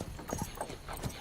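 Horse hooves clip-clop on hard ground, a few quick uneven steps close by.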